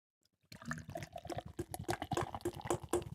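Grapefruit IPA craft beer pours into a glass with a bubbly, splashing gurgle that runs steadily for about three seconds, close and fairly quiet.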